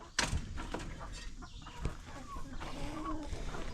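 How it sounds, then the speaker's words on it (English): Young chickens raised from hatchlings cluck and chirp softly in a backyard chicken pen, heard close among scattered knocks and rustling, with no voices. "there's my little old baby chicks that we raised some from the hatchlings"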